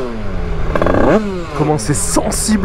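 A 100cc 2Fast two-stroke of 35 horsepower revving up and down on the throttle, its pitch sweeping upward in surges, loud and close, with someone talking over it.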